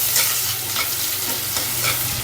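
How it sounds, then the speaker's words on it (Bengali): Onions and vegetable stalks frying in oil in a home kitchen, a dense continuous sizzle with soft rhythmic stirring scrapes throughout. "পেঁয়াজ ভেজে দিয়ে দিচ্ছি ডাটা"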